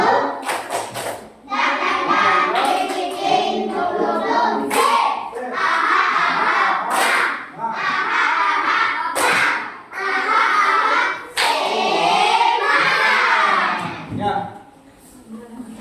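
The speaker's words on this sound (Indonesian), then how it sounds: "Tepuk semangat." A class does a rhythmic spirit clap as an icebreaker, with sharp bursts of hand claps and slaps in patterned groups. Children chant and call out loudly between and over the claps.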